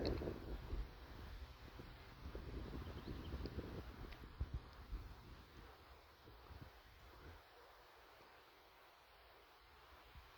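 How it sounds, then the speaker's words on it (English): Strong wind gusts buffet the microphone outdoors, a loud rough rumble in the first seconds that eases into a quieter, steadier blow, with no one talking. "That wind is blowing today."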